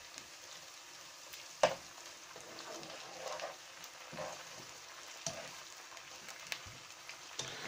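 About two teaspoons of garlic and ginger paste frying in a pan while being stirred, a faint steady sizzle broken by occasional soft scrapes and clinks of the spoon.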